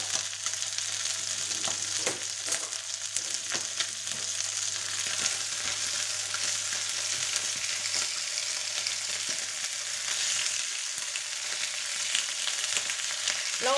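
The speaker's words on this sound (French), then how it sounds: "Là, on fait juste revenir un petit peu notre viande." Chorizo and meat pieces frying in a pan for paella, a steady close crackling sizzle with occasional stirring clatter, continuous throughout with no voices.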